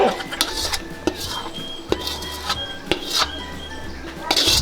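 Noodles tossed and stirred in a wok in Chinese restaurant style, with metal spatula scrapes and pan clanks in a steady rhythm over a low burner roar, close and fairly loud.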